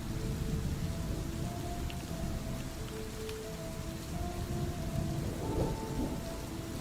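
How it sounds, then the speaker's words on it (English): Heavy rain pours steadily in a video game thunderstorm, a dense loud hiss with low rumbling thunder and faint tonal game sounds underneath. "You know, it is raining, right?"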